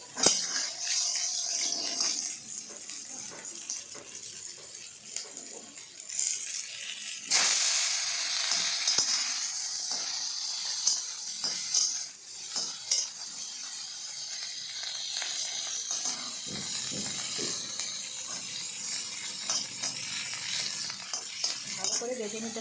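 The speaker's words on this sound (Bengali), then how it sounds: "এখানে লোহার কড়াই বসে দিয়েছি, এখন আমি শুটকি মাছগুলি ভেজে নেব" Dried fish (shutki) frying in an iron wok gives a steady sizzle that runs throughout, with scraping and stirring clatter from a utensil against the metal and a louder burst of sizzling partway through.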